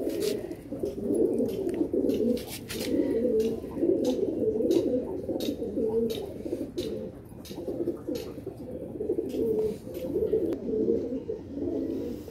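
Madrasi pigeon cooing close up, soft repeated throaty coos in steady rolling phrases over a quiet background with faint clicks.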